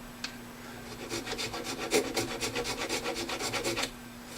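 Scraping glue off the fretboard of a Les Paul electric guitar: a quick run of about a dozen rhythmic rasping strokes, close and fairly quiet, with a steady low hum underneath and no talking.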